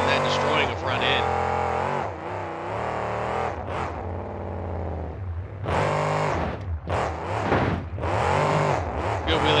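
Monster truck engine roaring and revving during a run at Stafford Speedway, loud surging bursts with pauses, heard under continuous commentary.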